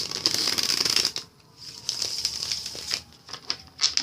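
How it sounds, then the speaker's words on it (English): A deck of tarot cards is shuffled close up in quick riffling bursts, crisp papery flutters separated by brief pauses, with no talking. "if you don't like the shuffling"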